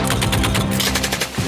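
Rapid automatic gunfire on the Russia-Ukraine war front, a dense, rattling burst of shots that continues throughout the brief stretch at close to moderate range.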